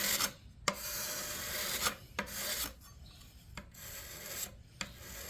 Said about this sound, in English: I'm just going to come in with the card scraper, clean the surface